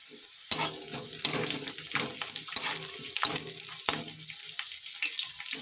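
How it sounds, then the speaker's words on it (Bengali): Garlic fries in a pan for a Bengali-style fish bharta, giving a close, crackling sizzle broken by repeated clinks and scrapes of a spatula stirring against the metal. "এবার আমি রসুনটা দিয়ে দেবো।"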